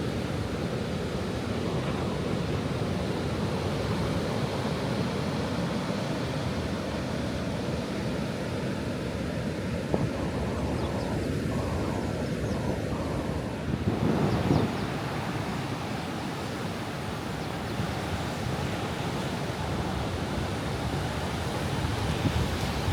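Ocean waves wash steadily against the rocks below a mushroom-shaped rock on a quiet beach, a continuous broad roar mixed with wind buffeting the microphone.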